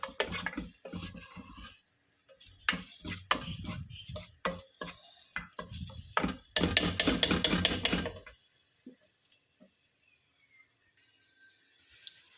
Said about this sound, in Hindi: मैंने 1 table spoon ginger garlic paste add कर दी। अभी थोड़ा फ्राई कीजिए